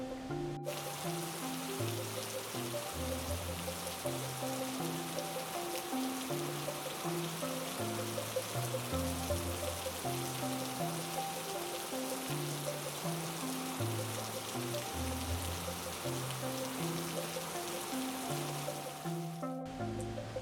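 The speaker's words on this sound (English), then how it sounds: "It begins to rain" Soft, steady rain patters continuously in the background while a gentle melodic tune plays over it, even and fairly quiet throughout.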